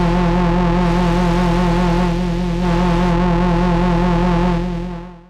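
A DRC polyphonic analog synthesizer holds a loud, sustained, buzzy chord with its noise source turned up. A hiss is layered over the warm drone, and the tone shimmers and wavers slightly before fading at the end.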